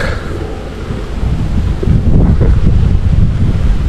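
Strong, gusty wind buffets the microphone in a steady low roar that grows louder after the first couple of seconds, with no voices.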